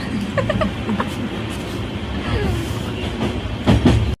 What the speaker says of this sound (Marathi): ट्रेन आलेली आहे आम्ही बघा.